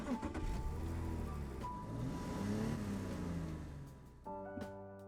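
Car driving in the LEGO Bricktales video game, a steady low engine drone with a rising and falling pitch sweep, close and fairly loud. A short chiming musical cue cuts in near the end.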